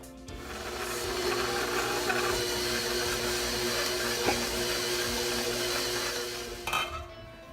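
Onion and garlic powder being worked into bagel dough by an electric mixer, a steady, loud whirring drone that runs unbroken for several seconds, with a few faint clinks near the end.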